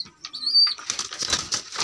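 Pigeons flapping their wings at close range: a short high chirp, then a dense, fluttering burst of wingbeats that fills the rest of the moment.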